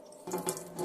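Water running from a tap in a Swift Challenger 490 caravan, fed by the onboard pump, a short, quiet hiss of flow that starts abruptly and splashes steadily.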